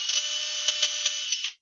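A power drill bites steadily into wood, a continuous loud whirring grind with a few brief surges in load, then cuts off abruptly.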